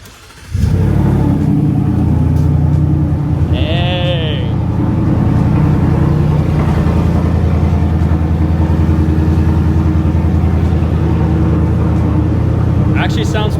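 A Ford F-150 single cab truck runs with its exhaust removed, a loud, raw, steady idle that starts abruptly and drones on, with a brief higher whine partway through.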